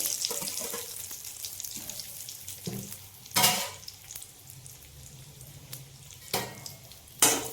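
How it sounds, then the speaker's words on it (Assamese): Soft sizzling of fried potatoes in oil with cumin, with a few sharp scraping stirs and clinks of a utensil against the pan. "ভজা আলুখিনি ইয়াত দি দিলোঁ।"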